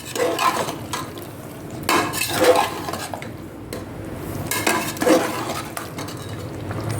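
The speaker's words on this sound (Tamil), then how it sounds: "போட்டுட்டு நல்லா கிண்டி விடுங்க." Chicken biryani being stirred in a pot, with repeated scraping and clinking of a utensil against metal in irregular strokes, fairly close and moderately loud, without any talking.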